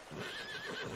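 A horse whinnies in Red Dead Redemption 2, a single loud, wavering neigh lasting about a second over steady game background sound.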